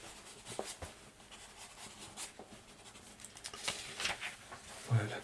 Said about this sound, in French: Je finis d'écrire quelque chose.